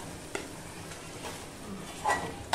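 Dried bombil fish, fried earlier, being stirred into a spicy potato chatpata in a pan, giving soft scraping and stirring sounds with a light sizzle and a couple of sharper utensil clinks near the end.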